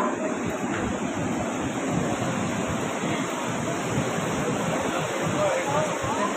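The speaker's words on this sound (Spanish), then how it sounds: "El río en estos momentos baja bastante bravo." The Combeima river in flood rushes past in a steady, loud, turbulent roar, with broadband churning water noise continuing unbroken throughout and no voices audible.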